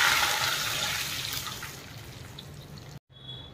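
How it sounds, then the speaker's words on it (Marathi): Water is poured into a pan of whole spices fried in ghee, giving a loud close rushing splash that fades gradually before a short break. "यामध्ये पाणी टाकून घ्यायचं."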